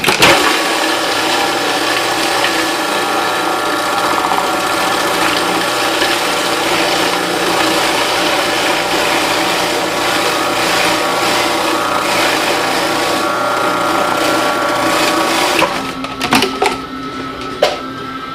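Electric mixer whirring steadily through banana bread batter with lumps of butter, a dense continuous mechanical drone with grinding texture that runs nearly unchanged, then cuts off near the end, leaving brief clatter.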